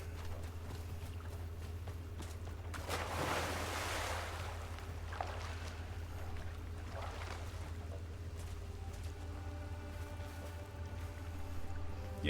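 Water effects in the video game Crimson Desert: a continuous wash of lapping waves and surf with a louder splashing surge early on, over a steady low hum.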